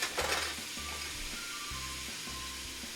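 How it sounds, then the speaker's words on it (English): Chopped carrots hit a hot soup pot already cooking onions for a spicy shrimp and sausage chowder, giving a steady, close sizzle and crackle of frying vegetables with faint clinks and stirring underneath. "we're going to go ahead and add our carrots"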